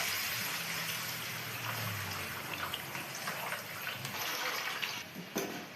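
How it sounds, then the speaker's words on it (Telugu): Continuous rushing hiss of tamarind juice poured into a hot pan of softened onions, broad and steady, with a few small clinks near the end. "ఇప్పుడు చింతపండు రసం పోయాలి ఉల్లిగడ్డలు మగ్గినాక."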